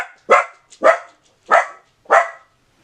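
A dog barks four times behind a closed door indoors, single sharp barks spaced evenly about half a second apart, fairly close and loud with quiet gaps between.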